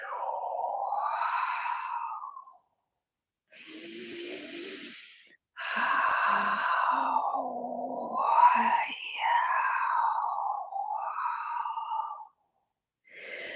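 Slow, audible breaths drawn in and let out during a body-awareness meditation with micro movements of the head, soft airy sighs in long drawn phrases separated by brief pauses, close and alone.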